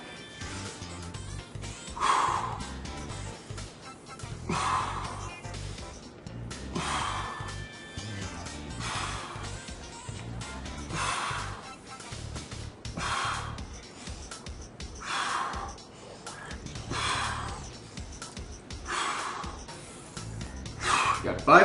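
Heavy rhythmic breathing during a home workout of shoulder-blade squeezes, with forceful exhales repeating roughly every two seconds, close to the microphone, alongside a person speaking.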